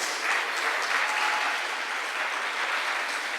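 Steady, dense applause from a church congregation, many hands clapping evenly at a constant loud level throughout.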